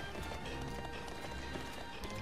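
Rapid hoofbeats of a horse running in Zelda: Breath of the Wild during a final boss fight, a steady drumming gallop under a dense game soundscape.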